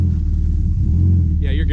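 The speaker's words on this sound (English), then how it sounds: "Pulling it up on the dyno." A Subaru STI rumbles low and steady as it rolls up onto a dyno, engine drone close and loud, with a short voice near the end.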